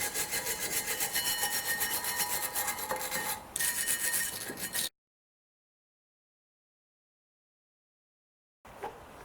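Scrubbing the pad seats of a brake caliper on a 2008 BMW 318i E90, a steady rasping brushing that runs close and loud for about five seconds, then stops dead before a short burst resumes.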